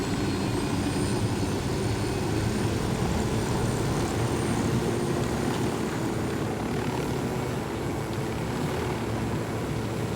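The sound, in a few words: airplane flying in video game Ghost Recon Wildlands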